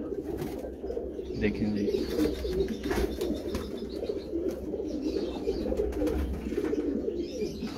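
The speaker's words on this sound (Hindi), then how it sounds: "79 वाले कबूतर जो इस टाइम इनके केज के इस टाइम हॉट फेवरेट जा रहे हैं" Pigeons of a prized breed coo in a loft cage, a steady layered burble of soft throaty calls with occasional wing flutters, while someone speaks briefly over them.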